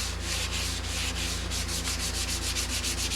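Primer on a car body repair is hand-sanded with a flat block, a close, steady scratchy rasp of rapid back-and-forth strokes that grow faster and more rhythmic toward the end.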